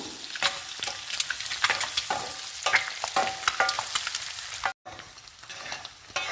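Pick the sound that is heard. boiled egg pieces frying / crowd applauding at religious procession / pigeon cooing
boiled egg pieces frying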